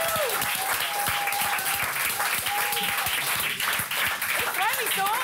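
A studio audience at a late-night music talk show applauds the band, with dense, sustained clapping and cheering that fills the room throughout while a voice speaks over it.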